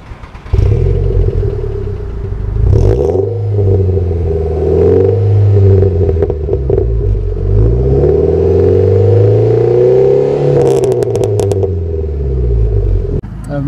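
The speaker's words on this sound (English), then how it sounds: "you don't know what exhaust you have in it because it sounds pretty nice" A 2000 VW Jetta 2.0 exhaust revs repeatedly, rising and falling in pitch with a loud throaty rumble up close, some clatter near the end.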